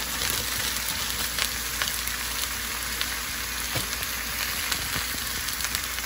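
Vegetables stir-frying in a pan with small peas going in, for a teriyaki stir fry: a steady, close hiss of sizzling with scattered crackles and pops throughout, no voices.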